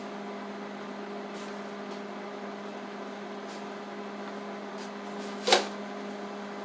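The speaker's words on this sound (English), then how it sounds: "microwave. Go ahead and start heating that up" A quiet, steady electrical hum of a microwave oven running, with one brief clunk partway through.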